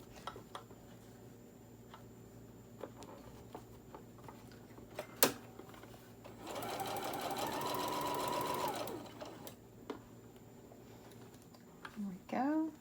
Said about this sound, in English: Just sew as straight as you can, carefully over this zipper that's right here.